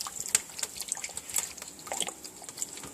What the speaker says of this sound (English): I'm going to pour more antifreeze in there.